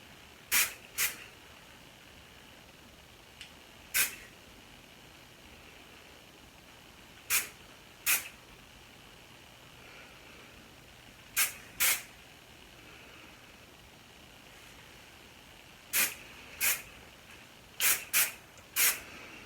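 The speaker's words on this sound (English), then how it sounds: "Aussie Instant Freeze hairspray and short bursts through the back here" Quiet, sharp hiss-like bursts of Aussie Instant Freeze hairspray on the back of a pixie cut, about a dozen short sprays, often in quick pairs, separated by pauses of near silence.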